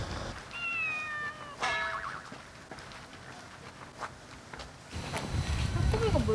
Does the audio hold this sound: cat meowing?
yes